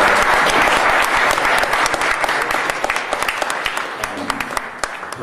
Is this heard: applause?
yes